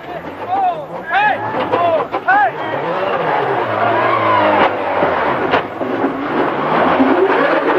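A rally car at the 2004 Swedish Rally limps on three wheels after losing a rear wheel, engine droning and revving with scraping noise, while commentary and crowd chatter run over it.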